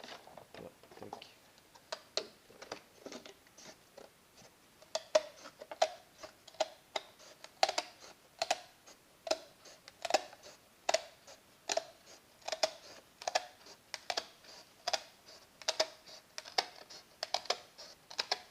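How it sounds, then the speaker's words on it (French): Sharp scissors cut through a carbon/kevlar fender guard with a long run of crisp, close snips at an even, ticking rhythm, steady and fairly quiet. "quand t'as les bons ciseaux, ça se fait vraiment bien"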